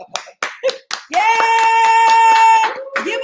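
A few loud, separate hand claps from a church conference host, followed by a long sustained vocal whoop and more voices.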